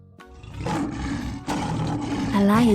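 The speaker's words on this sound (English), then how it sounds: "A lion says, roar." A lion roars loudly and close, a rough, rising growl that swells through the clip and ends in a deeper drawn-out bellow.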